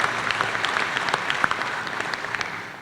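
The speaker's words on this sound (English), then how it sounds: "Yes, indeed, deserves a round of applause." A commencement crowd claps for the first graduating class of early college students, a dense, steady burst of applause with crisp individual claps, tapering slightly at the end.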